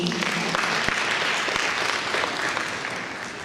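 Audience applause at a pharmaceutical manufacturers' quality improvement and capacity building program, a dense steady round of clapping from a crowd that fades slightly toward the end.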